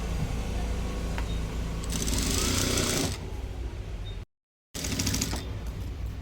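Sewing machine stitching a one-inch fold on a blouse sleeve, a steady close mechanical whirr that runs continuously, grows brighter and louder midway, cuts out completely for a moment, then resumes.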